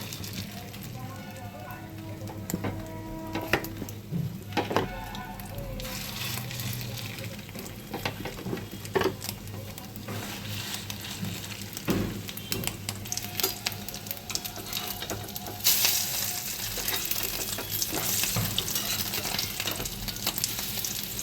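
Fish roe fritters fry in oil with a continuous crackling sizzle, moderately loud, broken by occasional clatters and faint background sounds.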